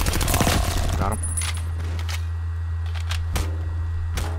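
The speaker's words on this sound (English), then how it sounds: "I heard this guy shooting at me" Gunfire in Call of Duty: Black Ops Cold War, with a rapid burst of shots up front followed by a few scattered single cracks over a steady low game hum.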